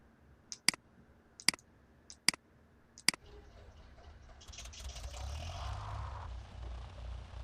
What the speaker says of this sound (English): Okay, and our propeller is turning.